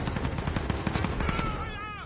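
Rapid gunfire crackles in a video game shootout, a dense string of close shots over about two seconds, with a game sound effect sweeping in at the end.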